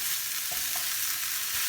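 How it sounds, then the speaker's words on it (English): Steady loud sizzling of vegetable chunks stir-frying in a hot pan, with a couple of faint clinks of utensils. "Stir frying for a further minute"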